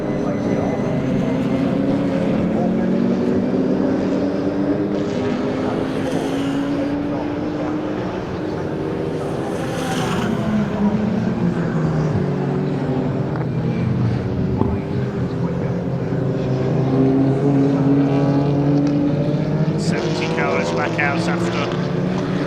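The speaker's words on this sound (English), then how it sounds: "So these two BMWs going at it." Two BMW touring cars race at Snetterton, their engines droning continuously with rising and falling pitch sweeps as they pass, steady and fairly loud throughout, with a commentator's voice talking over the noise.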